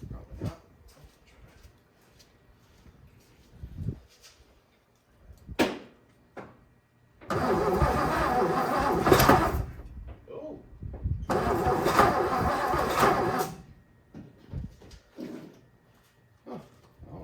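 A 1957 Lincoln Premiere engine, choked, cranks in short bursts, then catches twice into loud running spells of several seconds each that die back out, with quiet pauses and faint background noise between.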